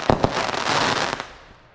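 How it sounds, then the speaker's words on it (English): Fireworks go off at a fireworks party near a cold Wyoming river, with two sharp bangs close together at the start followed by a sustained crackling burst that fades away. "Those are awesome. Fireworks"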